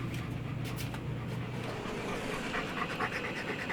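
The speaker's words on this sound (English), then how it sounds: "the dogs want to go in too" Dogs panting at a creekside campsite, quick rhythmic breaths close to the microphone over a steady outdoor background, fading partway through, with no speech.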